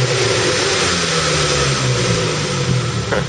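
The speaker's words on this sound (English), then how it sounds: "And this is how my car sounds like in a garage." A Saab 9-5 Aero engine rumbles steadily inside a garage, with a deep, continuous drone and slight swells in revs.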